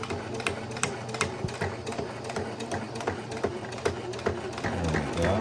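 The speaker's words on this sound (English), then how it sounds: "And then we're gonna sew down this side." An electric sewing machine stitching down the side of a fabric journal cover, a fast steady mechanical whir with rapid needle ticks running continuously up close, with no talking.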